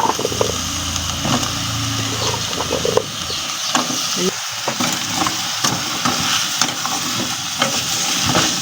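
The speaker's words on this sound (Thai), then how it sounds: "คนเนื้อแก่ฟักทองเข้ากันครับ" Pumpkin and chicken being stir-fried together for a Thai pumpkin curry, a loud continuous sizzle with repeated spatula scrapes and clanks in an uneven rhythm, close and dominant.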